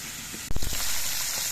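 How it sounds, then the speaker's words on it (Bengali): Koi fish frying in mustard oil, a loud burst of sizzling as the fish hits the hot oil, then a steady crackling hiss. "সবগুলো মাছ একবারে ধরা যাচ্ছে না আমি দুবারে মাছগুলো ভেজে নিচ্ছি"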